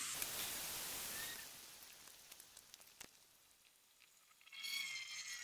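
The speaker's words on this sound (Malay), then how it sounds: "Dan goreng di atas api yang sedang. Goreng dengan api yang sederhana." Soft, steady sizzling of crab sticks frying in oil over medium heat, louder at first then settling, with a few faint clinks and a brief sound near the end.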